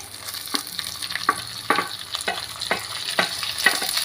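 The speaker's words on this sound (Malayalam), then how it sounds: "ഇതിലേക്ക് നമ്മൾ നീളത്തിൽ അരിഞ്ഞു വെച്ചിരിക്കുന്ന ഒരു സവോളയും കൂടെ ഇട്ട് കൊടുക്കാവേ" Long-sliced onion frying in a pan, a steady sizzle with regular stirring scrapes and taps.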